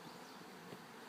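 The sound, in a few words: honeybees buzzing on a hive frame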